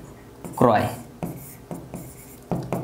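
A pen or chalk writes a date in a handwritten accounting exercise, with scratchy scribbling strokes in short bursts. Someone speaks over it throughout.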